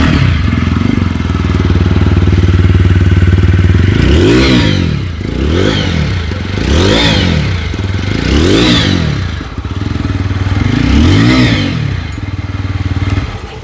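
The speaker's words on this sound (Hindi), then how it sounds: "देखो एक तो बहुत स्पोर्टी एग्जॉस्ट नोट है" A 160cc sporty motorcycle on the move, its exhaust note droning steadily with repeated rising and falling revs through gear changes, loud and close throughout with no talk.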